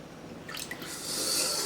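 Homemade butter is washed in water while making ghee, with a few close drips and splashes followed by a louder swishing rush of water.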